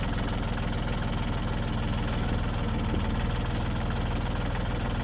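A hydrostatic tractor's engine runs steadily with a knocking diesel idle rhythm, close and continuous with no talk, as the machine moves ahead in snowy conditions.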